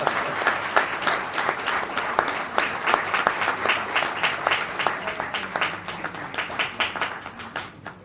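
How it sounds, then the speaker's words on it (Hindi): An audience applauds as an award is presented at the Vasantotsav music festival; the clapping is lively and fairly loud, with many distinct claps that gradually thin toward the end. "तालियों के साथ।"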